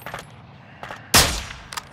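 Gunfire in Call of Duty: Modern Warfare II comes as a single sharp, loud shot with a short decaying tail, set among faint scattered combat noise in a game battle.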